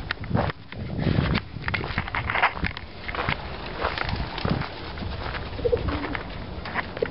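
Pigeons cooing near a railway station, a soft continuous murmur of coos mixed with fluttering and shuffling, fairly close with steady background noise and no speech.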